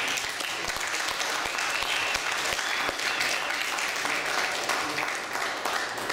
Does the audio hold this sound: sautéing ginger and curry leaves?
no